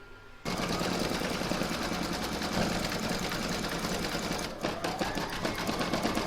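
An embroidery machine sews a decorative satin stitch around the stalk of an acorn placemat, a loud, steady rapid needle chatter that runs continuously after a brief quiet start, with a short dip near the end.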